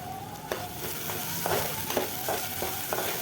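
Chopped green chili going into a pan of sizzling onion and coriander stems for a soup: steady close frying hiss with a few soft stirring scrapes and light taps throughout, no voices.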